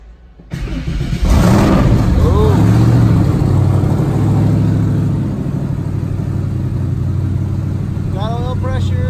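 Sketchy, a drag race car fitted with new turbos, cranks and fires up, then settles into a loud, heavy rumbling idle close by, with a couple of sharp revs that rise and fall near the start and again at the end.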